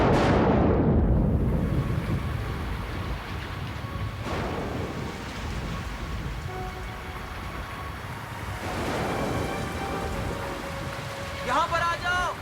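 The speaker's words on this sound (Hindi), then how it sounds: "यहाँ पर आ जाओ, यहाँ पर बारिश से बच सकते हैं।" Steady rain pours down throughout a dramatic TV serial scene, a dense, continuous wash of noise with low rumbling underneath that swells again toward the end.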